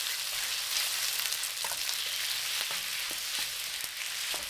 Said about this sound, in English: When the oil is hot, add the marinated beef. Constantly stir for 45 seconds.